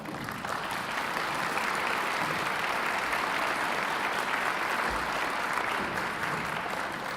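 An audience at a school district fall kickoff event gives a round of applause for the trustee board, dense steady clapping from many hands that holds evenly for about seven seconds, moderately loud.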